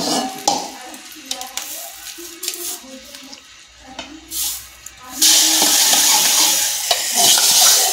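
Hot tadka tempering poured from a ladle onto cooked dal sets off a sudden loud, sustained sizzle and hiss, following a few seconds of quieter clinks and kitchen movement.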